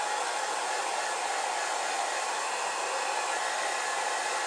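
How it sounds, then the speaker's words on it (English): A hair dryer blows steadily at close range, a constant broadband whoosh with no pauses or voices. "You can even take the doggone hair dryer."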